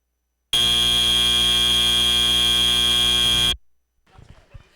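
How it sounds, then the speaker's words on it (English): A loud, steady electronic buzzer ending a FIRST Tech Challenge robotics match at a qualifier event, sounding in one unbroken blast for about three seconds before cutting off into faint crowd noise. "buzzer concludes the match"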